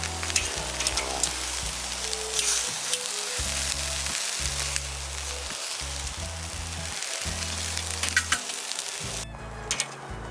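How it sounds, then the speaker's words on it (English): Vegetables sizzling steadily on a charcoal grill directly over hot coals, a continuous loud crackling hiss with a low rhythmic hum running underneath, no talking. "Now we go ahead and throw our vegetables on first and let those get cooking."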